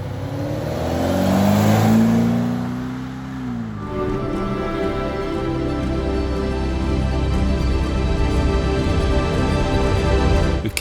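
A fully restored Series III Jaguar E-Type with a 450 hp LT1 engine, 8-speed automatic and original-style fantail exhaust revs loudly up and down, then settles into a strong, steady engine drone close by.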